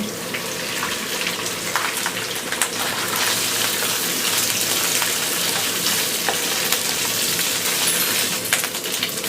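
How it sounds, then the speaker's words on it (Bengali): Onions and shredded meat for haleem fry loudly in a pan, a dense continuous sizzle dotted with sharp crackles and spatula clicks, close and unbroken by speech. "পেঁয়াজগুলোকে একটু হালকা ব্রাউন করে ভেজে নিব সেই আট সরানো মাংসগুলো দিয়ে দিচ্ছি"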